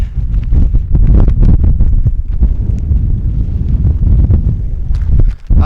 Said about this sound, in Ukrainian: але неймовірний дує вітер, і я не знаю, чи буде чути.